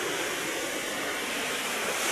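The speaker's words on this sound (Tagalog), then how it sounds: "Medyo malakas yung alon" Strong ocean waves break along a shore piled with concrete jackstone breakwater blocks, a soft, steady hiss of surf heard from a distance with no talking.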